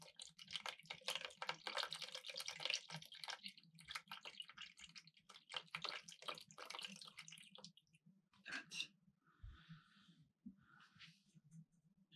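Water is poured quickly into a container of ingredients, making a steady close splashing gush for several seconds, then a few faint drips and trickles as the pour stops.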